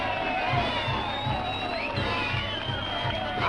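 Live-recorded crowd noise from a Citizen Kane scene: a busy hubbub of many voices with scattered shouts and whoops, plus faint singing-like tones weaving above the steady murmur.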